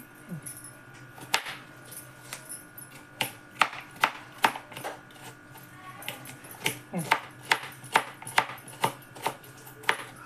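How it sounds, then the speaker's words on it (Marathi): Mango ginger (amba haldi) being chopped into large pieces for pickle: sharp knife strikes on a board come in irregular bursts, fairly close, while someone talks over them. "अगदी मोठे मोठे तुकडे करायचे बघा मी असेच करणार आहे"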